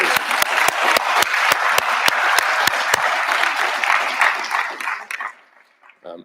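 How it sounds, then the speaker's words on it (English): Conference audience applauding at the RadicalxChange closing session: a loud, dense round of clapping with sharp individual claps, thinning out near the end and fading to quiet. "So can I get another round of applause for these folks?"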